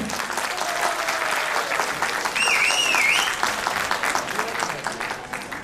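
Audience applause at a school annual function, a steady broad wash of clapping throughout, with a brief whistle or squeal rising partway through.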